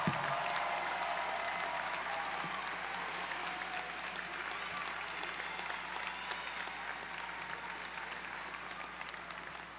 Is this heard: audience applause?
yes